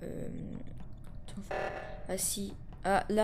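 An alarm from the video game Among Us sounds as repeated bright, buzzing tonal bursts, moderately loud, while a person talks over it.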